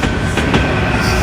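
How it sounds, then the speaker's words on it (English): A passing train rumbling loudly close by, with continuous clattering wheel noise and a few sharper metallic clacks standing out, dominating the scene with no talking. "She's a loud train today."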